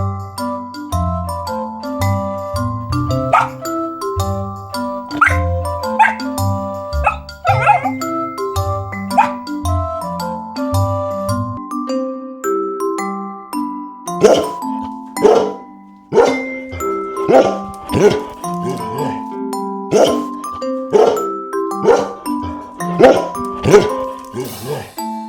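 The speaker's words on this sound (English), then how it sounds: "His cute puppy, it's simply called Puppy" A puppy on a farm barks in short yips among bright, tuneful children's music that plays throughout.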